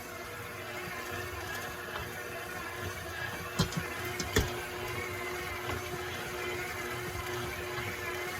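A stand mixer kneads very firm bagel dough with a steady, continuous motor hum, and two brief knocks come from the bowl partway through.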